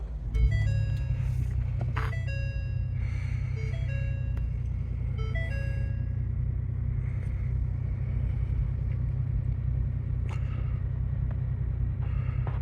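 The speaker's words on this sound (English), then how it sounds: "To start the vehicle up, all you have to do is just simply have the key fob on you, put the foot on the brake, and hit the button to go" A 2024 Ford Expedition XLT engine starts by push button and settles into a low, steady idle rumble, with chime tones and light clicks from the cabin over it.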